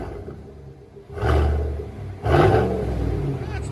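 Chevy Silverado 5.3L V8 with a Borla exhaust heard from inside the cab, its deep throaty rumble swelling in two loud revs over a steady low idle.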